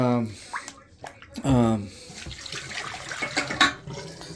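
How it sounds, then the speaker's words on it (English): Water running and splashing as a toilet tank is emptied during a new toilet installation, a steady close trickle and gurgle under a voice talking. "He's just emptying out most of the water"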